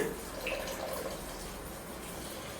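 Water poured from a jug into a pressure cooker while cooking, a continuous faint splashing trickle lasting a couple of seconds.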